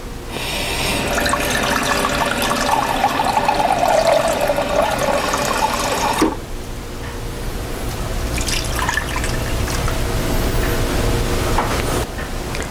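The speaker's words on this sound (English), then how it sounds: "what I'm going to do is add another 2 cups of water, so there'd be 6 cups total in my crock pot" Water pours steadily from a tap into a crock pot at home, a bright filling gurgle whose pitch rises as the pot fills, then stops abruptly, leaving quieter trickles and drips.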